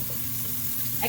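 Garlic, onion and ginger fry together in a pan, a steady close sizzle with a brief stirring scrape at the end, and nobody talks.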